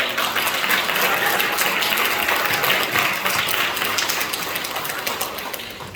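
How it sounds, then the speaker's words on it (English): Audience at a National Honor Society induction ceremony applauds teachers: sustained, dense clapping from a large crowd throughout, fairly loud and steady, tapering slightly toward the end. "can we please clap it up for all of your teachers"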